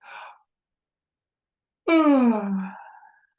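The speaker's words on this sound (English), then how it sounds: "Nice big yawn." A person gives a big yawn, one long breathy vocal exhale that starts high and slides lower, heard alone and close after a short breath and a silent pause.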